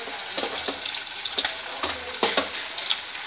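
Chicken wing pieces sizzle and spit in hot ghee in a small kadai, a steady dense frying hiss with crackling bursts as the pieces go in.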